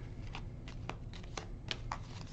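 A deck of board game cards is shuffled in a quiet room, giving soft, irregular riffling flicks and taps close by.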